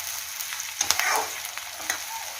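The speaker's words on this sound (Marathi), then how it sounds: "जिरं, मोहरी, कढीपत्ताची फोडणी देऊन मग कांदा भाजायला घातलाय" Sliced onions frying and being stirred in a potato-curry tempering of cumin, mustard seeds and curry leaves, with a steady close sizzle, a few spoon scrapes and clinks, and no talk.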